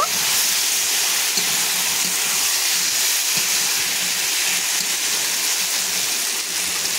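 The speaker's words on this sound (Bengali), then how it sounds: "এরপর মাংসটাকে ভালো করে আমি নাড়াচাড়া করে নেব।" Mutton cooking with cauliflower in a pan gives off a steady, loud, close sizzle and hiss, unbroken throughout with faint scraping from stirring beneath it, and no voices.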